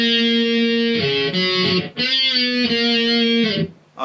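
Electric guitar closes a solo with sustained bent notes, a short break, then a final held phrase that rings out and fades, played alone and close.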